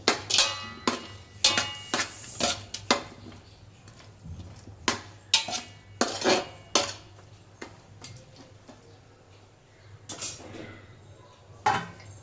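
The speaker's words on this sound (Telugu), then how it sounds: "ఒక్కసారి మిక్స్ చేయాలి దీన్ని" A spoon knocks and scrapes against a metal cooking pot as food is mixed, giving a string of sharp, irregular clinks and taps over a low steady hum, with no talking.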